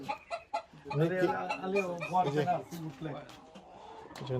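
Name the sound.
chickens clucking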